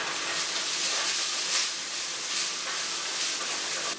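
Loud, steady hiss of spring onions frying in a very hot wok with a small splash of oil, continuous sizzling with no pauses and no voices.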